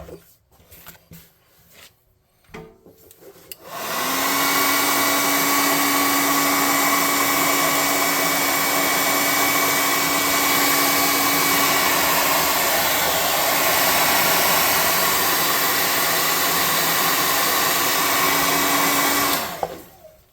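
A hair dryer blows steadily to dry paint on a tabletop model figure of a blue ox. It starts abruptly after a few seconds of quiet handling noises, runs loud and constant with a whining tone, then cuts off near the end.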